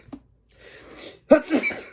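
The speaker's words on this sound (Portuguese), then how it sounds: "Eu vou espirrar, gente." A sneeze from a woman, one sharp loud burst preceded by a short inhale, fairly close and alone with no talking.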